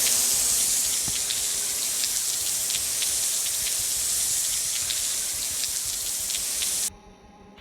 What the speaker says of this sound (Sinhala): වතුර.